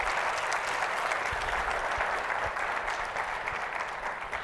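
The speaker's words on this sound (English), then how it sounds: "So give her a round of applause," A live audience at a conversation event with Nevada's governor breaks into a steady round of applause, dense and sustained clapping filling the whole stretch without any voices over it.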